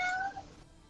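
A single short, rising-then-falling meow sounds close and clear before fading, most likely a person's voice imitating a cat.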